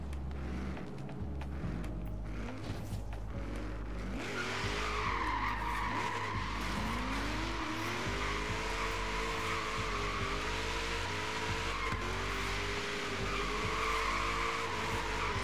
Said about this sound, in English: I love the sound of the V8 in this game.